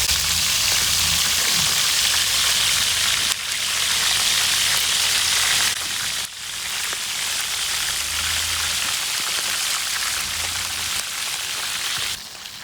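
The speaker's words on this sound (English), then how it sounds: "It's only been cooking about a minute now." Rattlesnake meat frying in a pan: a steady, close hiss and sizzle of hot oil that runs unbroken throughout, dipping briefly in loudness at a few points.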